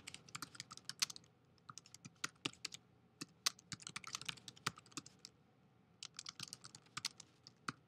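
Quiet, close typing on a computer keyboard while entering a note in accounting software, with irregular bursts of sharp key clicks and short pauses between words.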